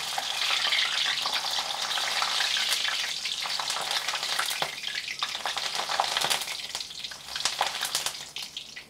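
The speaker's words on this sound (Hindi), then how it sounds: "ब्रेड पकोड़े के साथ हरी मिर्च भी फ्राई कर लेते हैं" Slit green chillies frying in hot oil alongside bread pakoras, a loud, close, steady sizzle with popping and spatters and occasional stirring clicks, no voices.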